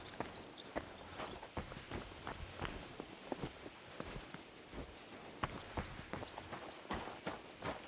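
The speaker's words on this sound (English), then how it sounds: "that looks like a bloody expensive horse." A horse's hooves clip-clop at a walking pace in the medieval role-playing game Kingdom Come: Deliverance II, fairly quiet but steady, irregular footfalls continuing throughout.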